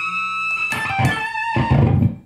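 A homemade distortion pedal combining a DS-1 style circuit, set to a harsh wailing setting; a few loud, fuzzy distorted guitar notes ring out and sustain alone.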